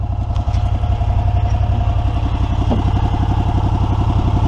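Gas engine of an EZ-GO ST 4x4 golf cart running steadily up close beside the muffler, a loud, even low-pitched putter with a fast regular firing pulse throughout and no talk.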